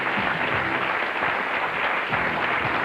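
Studio audience applause for comedian Gilbert Gottfried on a late-night interview show, a steady dense roar of clapping that holds loud and continuous throughout.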